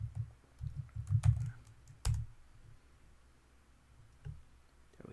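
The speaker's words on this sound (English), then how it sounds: "so I'm gonna go and type Adidas" Fairly soft, close keyboard typing as a word is entered into a Google Sheets spreadsheet, a short cluster of muffled taps followed by a couple of isolated keystrokes against a quiet room.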